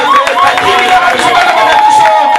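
A church congregation claps and cheers loudly at close range in a lively, continuous burst. Voices rise among the rhythmic hand claps.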